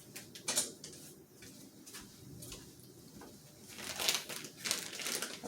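Plastic packaging crinkles and crackles up close in irregular bursts, with quieter pauses between handling noises.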